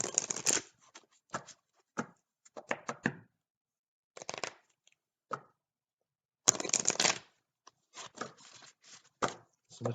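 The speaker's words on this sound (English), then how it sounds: "Tonight it's silent shuffle" Tarot cards being shuffled in bursts of crisp riffling and slapping, several separate rounds with silent gaps between them, close and fairly loud, with no talking.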